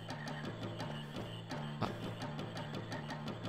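Frogs croak in the video game Final Fantasy IX, a regular, rhythmic series of short croaks over a soft, steady background ambience, with one brief louder sound midway and no talking.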